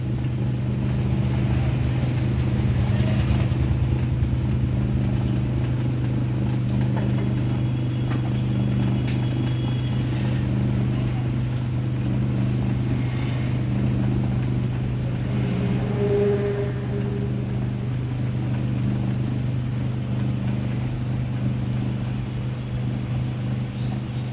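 A running pottery wheel hums in a steady low drone while a knife cuts lines into a clay flower pot, the continuous motor sound dominating with faint scraping textures.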